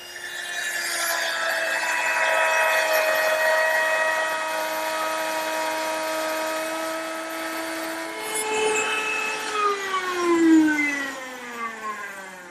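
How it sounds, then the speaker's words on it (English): A router with a dovetail bit, mounted under a router table, cuts wood for the male part of a dovetail joint: a steady, loud motor whine that dips and strains as the bit bites the workpiece, alone without speech. "With the same dovetail bit mounted in my router, which is now under this router table, I'm able to make the male part of that dovetail joint."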